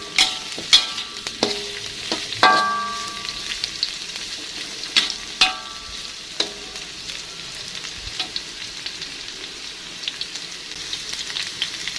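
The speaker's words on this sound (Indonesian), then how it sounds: "sebelum terongnya ditumis, terongnya kita goreng terlebih dahulu ya" Purple eggplant fries in a pan of hot oil, a steady close sizzle and crackle with scattered sharp pops and occasional stirring scrapes, running throughout with no talk.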